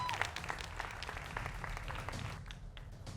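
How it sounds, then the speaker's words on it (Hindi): A television studio audience at a Hindi news debate applauds, producing a soft, dense patter of many hands clapping that trails off toward the end, heard at a low level with no talk. "दोनों मेहमानों का स्वागत है जोरदार तालियों के साथ।"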